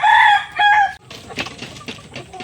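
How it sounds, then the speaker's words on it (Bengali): Native hill chickens cluck and crow close by, a loud drawn-out crow followed by a second shorter call, then softer scattered clucking and scratching. "এই যে দেখতে পাচ্ছেন আপনারা পাহাড়ি মুরগিগুলো এনে আমি এদেরকে ছেড়ে দিয়েছি"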